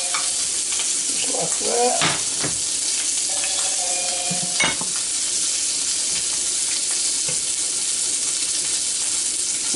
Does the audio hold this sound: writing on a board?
no